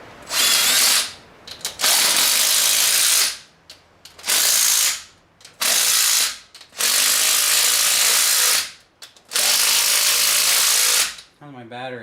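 Cordless power ratchet tightening rocker arm bolts on ported cylinder heads, whirring in several loud bursts of one to two seconds each with short pauses between, close up, alongside some talking.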